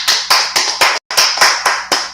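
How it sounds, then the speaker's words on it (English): A small class claps in unison, about eight sharp, loud claps in a steady beat with one brief gap, no talking. "let's clap for class"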